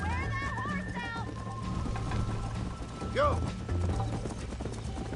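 Hooves clatter in a fast galloping rhythm in the video game Red Dead Redemption beneath a loud shout, with a horse whinnying partway through.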